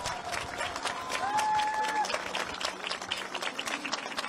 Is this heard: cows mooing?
no